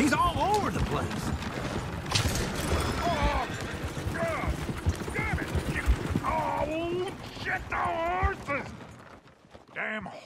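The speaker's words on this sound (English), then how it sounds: "Damn horses." Horses clop and whinny amid busy mechanical clatter and scattered voices in the video game Red Dead Redemption 2, with snorts and neighs rising toward the end.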